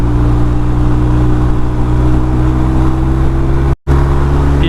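A 2021 BMW R1250 RT motorcycle engine heard while riding, a loud steady drone with wind noise under it and a momentary dropout near the end.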